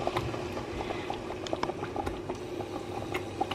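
A pot of curry with everything in it bubbles steadily on the heat, giving a close, continuous stream of soft pops and glugs at a low, even level, with no one talking.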